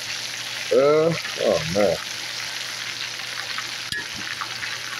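Small fish fry in a cast iron pan on a cast iron stove with a continuous soft sizzle, while someone speaks briefly over it near the start and a sharp knock sounds later.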